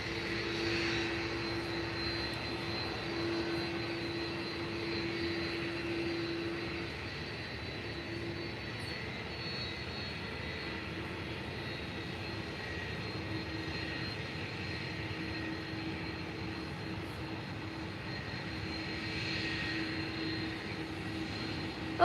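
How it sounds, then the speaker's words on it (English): Jet aircraft taxiing at Faro Airport, a Transavia and an EasyJet jet, give a steady, moderately loud engine drone with a constant hum that holds level throughout, with no talking. "Transavia and EasyJet are both taxiing now?"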